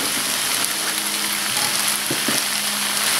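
Bitter gourd and okra for pinakbet sizzle loudly and steadily in a hot pan, with a few spatula scrapes as the vegetables are stirred.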